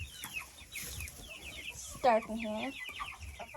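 Chickens cluck inside a dim barn coop near a feeder and waterer, with a burst of louder, drawn-out calls midway among softer clucks, while someone talks over them.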